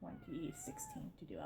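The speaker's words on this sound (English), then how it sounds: "That's my cat. One of my cats." A domestic cat lets out a single drawn-out, rising-and-falling meow close by indoors, heard over and between a man's ongoing speech.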